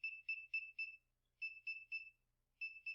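Small speaker on a trainer board beeping when its light sensor is covered, rapid bursts of four short high electronic tones repeated in groups, clear and isolated against silence.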